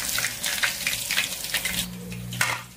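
Chicken pakoda deep-frying in hot oil: a dense, bubbling sizzle that swells in repeated bursts, with a low steady hum underneath and no talking.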